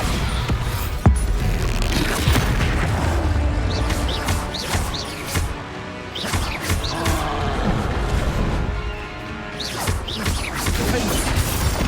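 Repeated Bombarda spell explosions in Hogwarts Legacy while fighting in a mine, loud booming blasts and crashes at irregular intervals over game noise and battle sounds.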